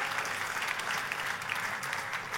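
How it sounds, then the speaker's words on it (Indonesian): A church congregation claps and cheers in a dense, steady wash of applause that fills the room, loud and continuous with no speech over it. "Tepuk tangannya yang paling meriah buat Tuhan kita."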